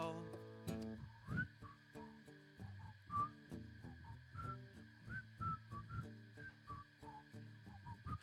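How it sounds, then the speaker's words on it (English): A person whistling a song melody over gentle instrumental accompaniment, the whistled notes rising and falling in short phrases, soft and fairly near. "My whistling really sucks."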